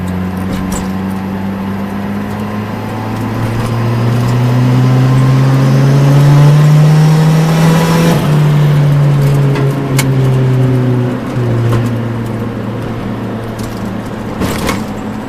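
Turbocharged budget-build car engine running on a lean fuel mixture, revving steadily under smooth throttle and holding boost, a loud sustained drone that rises in pitch toward the middle and then settles, with no talking.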